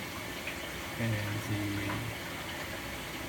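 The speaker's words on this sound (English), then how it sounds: "As you can see, the water is filling up" A washing machine fills with water, a steady rushing hiss and flow that goes on throughout with a low hum rising in the middle, and a voice speaks briefly over it.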